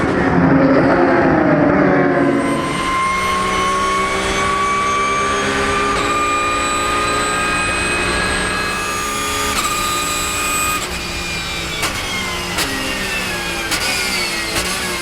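Porsche race cars of the Porsche Lorient team howl past on a circuit during a race, a loud, sustained engine whine with rising pitch sweeps as they overtake.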